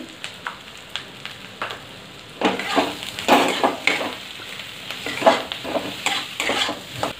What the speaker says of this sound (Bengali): টমেটো ভাজতে লবণ দিয়ে দিচ্ছি